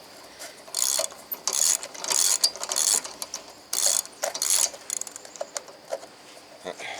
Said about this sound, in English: I actually got the wrench that Bill sent me, so I might as well use that on this also